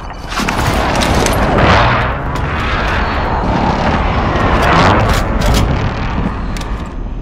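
A precision airstrike in the video game Warzone on Rebirth Island: deep, rolling explosion booms rise and fall over about seven seconds, with two heavy swells of blast rumble and debris noise, loud and continuous.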